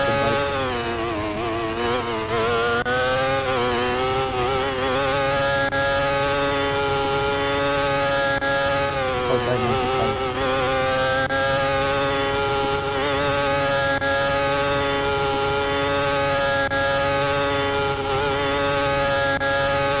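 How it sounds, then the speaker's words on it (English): Roblox F1 race car engines, heard during Thailand GP qualifying, whine loud and steady for the whole stretch like motorbikes, their pitch sliding up and down with gear changes and throttle, with no talking. "You guys think that the car sounds like lawnmowers or motorbikes."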